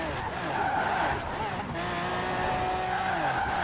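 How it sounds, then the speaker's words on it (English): Cars drifting in Forza Horizon 4, a winter setting, with continuous tire squeal and engine roar sweeping back and forth, loud and close throughout, and a voice faintly present underneath. "I'm just trying to drift back and forth just to get some more points"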